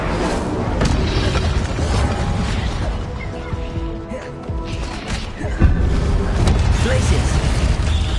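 Incendio fire spell being cast during combat in Hogwarts Legacy, a dense, loud wash of booming impacts and crackling mechanical rumble that runs continuously, with a sharper burst partway through and voices mixed in.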